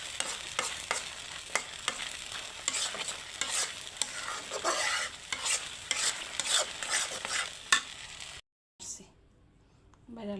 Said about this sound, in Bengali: এই একটু ভাজা ভাজা করি